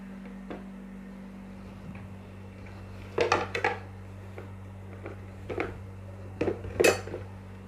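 A knife cuts through bread pakora sandwich pieces on a plate in a home kitchen, giving soft scattered clicks and scrapes of the blade against the dish, with a few brief clusters of clinks over a steady low hum.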